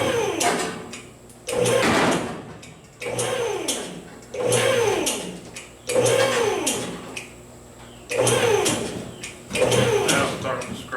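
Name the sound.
car body part scraping against the fender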